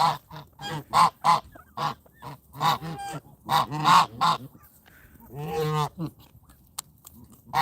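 Several geese honk close by in an outdoor pen with ducklings, giving a rapid series of loud, separate calls followed by a longer, harsher honk near the end, with short pauses between bursts.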